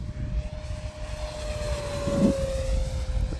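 An FMS P-47 Razorback radio-controlled model plane dives at full throttle, its electric motor holding a steady high whine that swells slightly and shifts pitch as it passes, heard outdoors amid wind noise.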